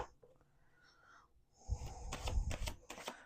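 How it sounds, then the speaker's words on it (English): Quiet rustling, then a brisk riffle of playing cards being shuffled, a short run of crisp snaps close by. "We're going to do 2 more shuffles."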